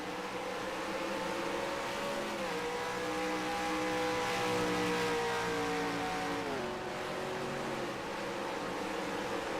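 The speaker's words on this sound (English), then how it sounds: "Lovely driving from McQueen around that hairpin" A NASCAR Racing 2003 race car engine at Sonoma Speedway drones steadily near and loud, its pitch easing down as it lifts around a hairpin, with no voices.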